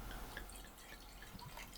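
Chenin Blanc wine trickles into a glass in a quiet room, a faint, brief liquid splash and dribble heard softly and close up.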